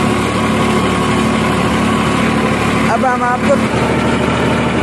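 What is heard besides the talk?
New Holland 3510 tractor engine running with 10-foot rotavator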